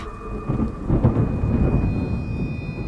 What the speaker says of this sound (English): There's a storm headed this way.